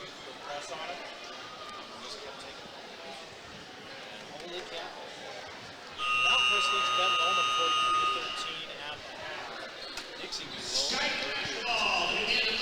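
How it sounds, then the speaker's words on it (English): Halftime buzzer at a high school basketball game in a gym: a loud sustained electronic buzz lasting about two seconds over crowd noise and squeaking shoes, with a second shorter tone later. "We heard the buzzer go off"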